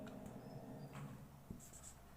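Pen scratches across paper in short, quiet strokes while a Class 10 math solution is written out, close and faint with no talking.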